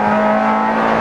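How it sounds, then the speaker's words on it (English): A 2002 Fiat race car engine holding a loud, steady high-pitched note as it accelerates hard into a turn, close and continuous with no talk. "Grab third gear there and absolutely throw the car in."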